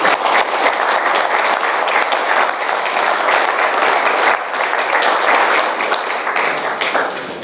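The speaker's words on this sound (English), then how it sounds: "Why don't you give them all an applause?" Steady, dense audience applause fills a political forum for Texas state representative candidates hosted by a Tea Party group in Carrollton, loud and sustained throughout with no talk over it.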